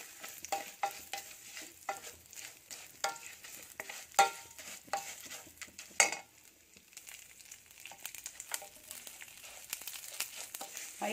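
Food frying in a pan is stirred until brown, steady sizzling broken by repeated scraping, rustling strokes of a spoon at an uneven rhythm, close and moderately loud.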